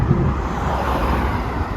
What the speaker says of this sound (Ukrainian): вже вітер холодний такий почав віяти